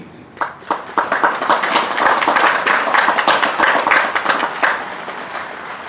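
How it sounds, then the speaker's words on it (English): A ceremony audience at a Memorial Day observance at a mansion in DeKalb, Illinois, claps in a lively round of applause, dense and close, building quickly and easing off near the end. "give a nice round of applause to the Be the One and Cindy Hutke"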